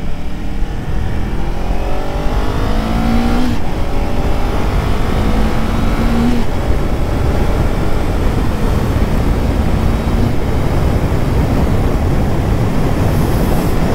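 A 2024 Honda CBR500R motorcycle accelerates hard onto an expressway, its engine pitch climbing through gears with brief shift dips, loud and close over constant wind roar.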